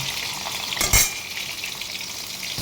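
Oil sizzles steadily as pointed gourd pieces fry in a pan, with a brief clatter of a utensil stirring partway through.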